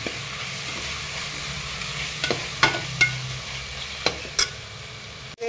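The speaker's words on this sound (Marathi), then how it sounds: "कोथिंबीर, मिरची आणि कांदा बारीक केलेलं ते पण याच्यात टाकून घेऊया। याला पण चांगलं परतून घेऊया आपण." Chopped coriander, green chili and onion sautéing in oil for mushroom pulao, a steady close sizzle broken by several sharp spatula clacks against the pan.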